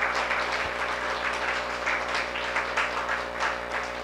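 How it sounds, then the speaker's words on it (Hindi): A seminar audience claps for a speaker at a diet-system talk, sustained even applause from many people over a low steady hum, moderately loud and without speech. "तो इनके लिए जितनी भी तालियां बजाएंगे उतनी कम है।"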